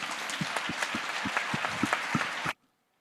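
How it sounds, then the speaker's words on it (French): An audience at a company building inauguration evening applauds warmly, dense clapping that continues steadily for a couple of seconds before cutting off abruptly. "On peut les applaudir aussi."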